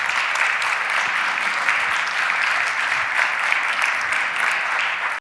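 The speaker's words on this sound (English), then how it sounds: "A great applause, please." Audience at a re:publica 2019 conference talk gives a sustained, even round of applause after the talk closes, loud and steady before cutting off abruptly.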